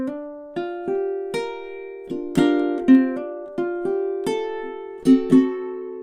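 Fingerstyle ukulele playing two measures of a spooky melody: a steady run of plucked notes with ringing decays, some accented double plucks, close and clear with no talking.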